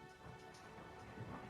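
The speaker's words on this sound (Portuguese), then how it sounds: "Meu Deus, tá trovejando pra caramba aqui." Rain during a thunderstorm, a quiet, steady patter and hiss heard faintly from a distance, with a soft low rumble underneath throughout.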